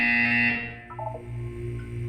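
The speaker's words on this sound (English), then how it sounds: "You will hear a buzzer." An electronic buzzer in the video game Portal 2 sounds a steady, harmonic tone for about half a second, then cuts off into quieter electronic tones and a low background hum.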